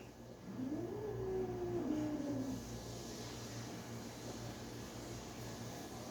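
A cat lets out a single drawn-out, rising and falling yowl for about two seconds during a fight between cats, fairly faint against a steady hum of fan or traffic noise, then only the background hum continues.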